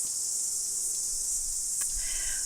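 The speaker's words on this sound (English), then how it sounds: "the sound, the vibration that's going on for us with the kihikihi, with the cicadas" Cicadas drone in a steady, continuous high buzz that stays level and fairly loud throughout, with a brief faint rustle near the end and no voices.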